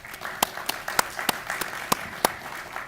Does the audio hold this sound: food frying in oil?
no